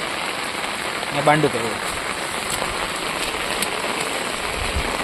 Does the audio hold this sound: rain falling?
yes